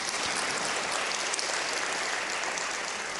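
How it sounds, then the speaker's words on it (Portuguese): Steady, dense audience applause fills a formal legal lecture hall at an event honoring appellate judges, loud and continuous throughout with no pauses. "Janete Vargas Simões, uma salva de palmas."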